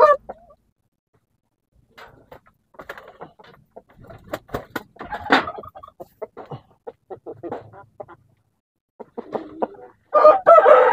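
Shamo gamecock roosters cluck in short scattered bursts on a quiet farm, with a crow near the start and a louder crowing call at the end, close and clear.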